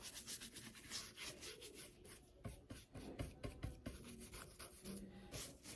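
An old brush scrubs finish into the nooks of an upcycled wooden barrel sign, giving soft, uneven scratchy rubbing strokes close by, with a few sharper scrapes midway and no talking.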